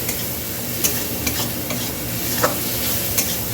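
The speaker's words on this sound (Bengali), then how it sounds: "ডিম করছি মশলা ভাজা হচ্ছে এখন মশলাটা ভালো করে ভেজে নিই" Spices fry in a pan for egg curry, a dense loud sizzle with a few sharp spatula clicks and taps scattered across it, no voices.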